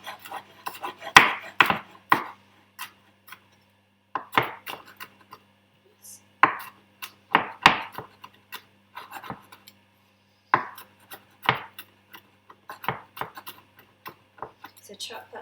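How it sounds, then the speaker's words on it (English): A knife chops garlic cloves on a board in a home kitchen, irregular bursts of quick sharp taps with short pauses between, close and clear, no talking. "So chop that nice and small."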